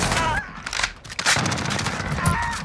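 A shotgun fired in the video game Call of Duty Modern Warfare, loud and close, with sharp blasts and a burst of gunfire running through the whole stretch, over dense game noise.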